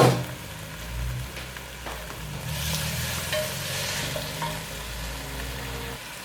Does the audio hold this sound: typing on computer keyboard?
no